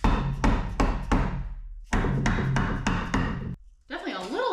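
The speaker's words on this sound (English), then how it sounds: "Maybe I can hammer it in." A hammer strikes a tight-fitting wooden piece into place in a garage workshop, landing a few sharp, close knocks in two quick bursts, followed by a brief scraping rub.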